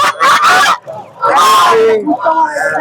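Geese honk loudly and repeatedly nearby amid crowd chatter and shouting at a poultry market, with overlapping calls from ducks, chickens and other fowl.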